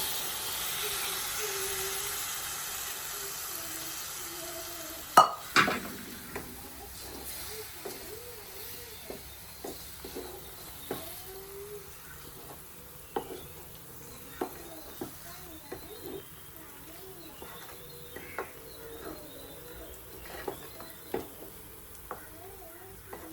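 Cooked pieces of drumstick, brinjal and potato drop into a simmering curry gravy and get stirred, with a quiet, steady bubbling sizzle, a sharp clatter as they go in, then scattered clinks and scrapes of the spoon, and occasional faint voices.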